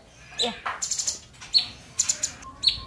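Caged songbirds at a bird market kiosk give bright, sharp chirps that burst out in short clusters, close by, with quiet pauses between calls and faint background noise.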